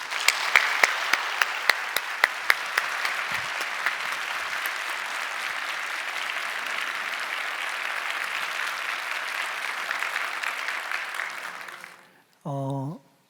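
A church congregation claps to welcome a pastor to the pulpit at a Sunday service, a few loud sharp claps swelling into sustained even applause that fades out, followed by a brief voice at the end.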